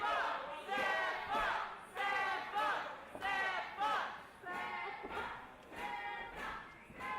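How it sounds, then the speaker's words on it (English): A wrestling crowd at FSW Ground Zero 2021 chants in rhythmic waves during a one-on-one match, loud and sustained in a packed venue. "the crowd still trying to get behind Sefa Fatu in his one-on-one matchup"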